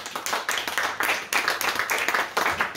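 Audience applause at a literary conference: a modest crowd claps in quick, fairly close bursts that stay steady and dense for the whole stretch, with no voices over it.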